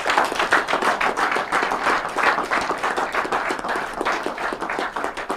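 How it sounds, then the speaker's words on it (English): A small group of people clapping while walking out, with steady, fairly close hand claps in a quick, slightly uneven rhythm. "As we dey walk out, we go clap."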